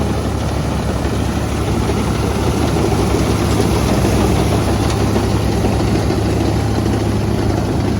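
A Farmtrac 60 tractor engine drives a straw machine, giving a loud, continuous low drone that holds steady throughout with no break.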